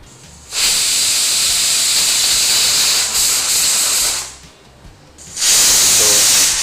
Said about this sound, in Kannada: ವಿಸಿಲ್ ಸಾಕಂತ ಕಾಣುತ್ತೆ ಅಲ್ವಾ?